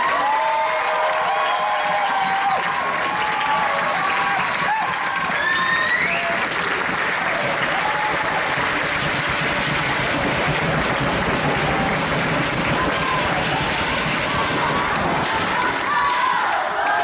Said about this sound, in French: On peut l'applaudir aussi, s'il vous plaît.